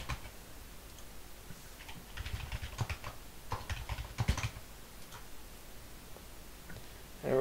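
Someone types a password on a computer keyboard, with soft, close key clicks in irregular runs over a faint background hiss, growing busier in the middle.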